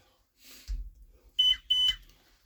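Two short high-pitched electronic beeps from a chairlift control panel at the top station, close and clear, following a brief dull knock, with no talk during them.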